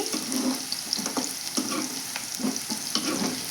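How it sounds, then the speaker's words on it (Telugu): Bitter gourd curry frying in a pan, a steady close sizzle with repeated scraping stirs at an uneven rhythm, no voices. "ఇంకా బాగా ఫ్రై కావాలండి ఇంకొక పది నిమిషాలు అయితే పడుతుంది"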